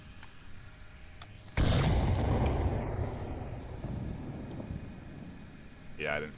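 A grenade goes off in the VR shooter Onward during a competitive team match, a single loud blast with a long rumbling tail that fades slowly, with faint talk underneath.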